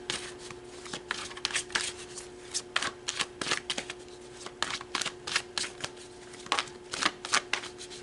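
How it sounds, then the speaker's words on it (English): A deck of tarot cards riffles and slaps close by in quick, uneven bursts of crisp papery clicks over a faint steady hum, with no voices. "let's pull some more tarot"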